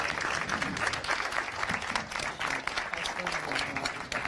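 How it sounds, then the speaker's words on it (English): Audience applause at the close of a documentary storytelling talk, a steady wash of many hands clapping at moderate distance, continuous for several seconds with some murmur mixed in. "Can I get one big clap?"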